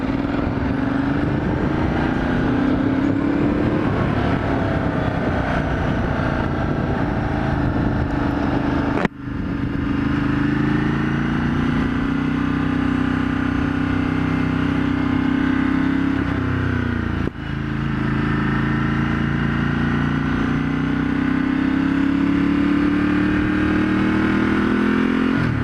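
A motorcycle fitted with a new throaty exhaust idles and pulls away, its loud steady engine drone rising and shifting in pitch, broken by two brief gear-change dips.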